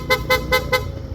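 A PIA aftermarket horn fitted to a Yamaha NMAX V2.1 scooter sounds in rapid mode, four short evenly spaced beeps in quick succession over a steady background hum.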